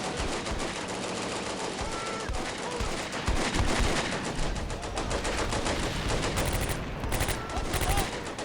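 Sustained gunfire from troops in the World War II strategy game Combat Mission: Beyond Overlord, a dense, continuous fusillade of machine-gun and rifle fire with overlapping bursts, loud and unbroken for several seconds.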